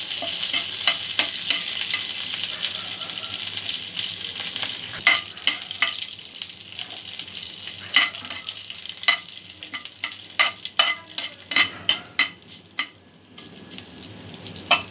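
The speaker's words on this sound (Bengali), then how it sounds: "ফোড়নটা ভাজা হয়ে গেছে।" A spice tempering with curry leaves for coconut chutney sizzles in hot oil, a close crackling hiss punctuated by a series of sharp pops and spatters that grow more frequent toward the end.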